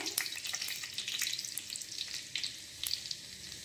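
Whole dried chillies sizzling in hot oil as a tempering for dal, a soft continuous hiss with scattered sharp pops and crackles, fairly faint.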